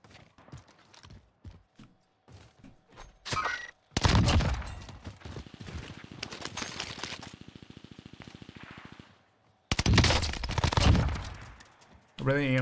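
A PPSh submachine gun fires from the hip in a video game, loud rapid bursts of automatic fire in several runs with short gaps between, sharp and close, mixed with other game noise.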